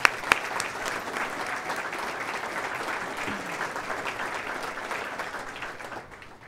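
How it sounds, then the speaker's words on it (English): Audience applause at a university alumni awards ceremony, honoring the awards committee chair: steady, dense clapping from a large crowd holding for about six seconds and fading slightly at the end. "So one round of applause for him as well."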